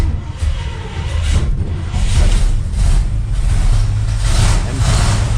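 A 1961 Pontiac Laurentian with a 4-speed gearbox runs up close, its engine rumbling loudly and rising into steady revving over several seconds, with a rough, uneven low growl and no voices.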